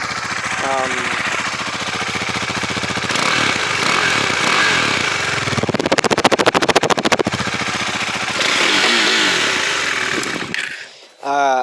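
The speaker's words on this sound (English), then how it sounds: "So this is the exhaust note." A Husqvarna Svartpilen 401 motorcycle's single-cylinder exhaust plays at close range. It idles with a buzzy rattle, then blips up into a loud, rapid staccato rev before settling back down and cutting off. A voice speaks briefly at the start.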